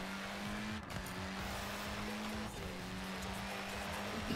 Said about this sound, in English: Bouncing off the rev limiter!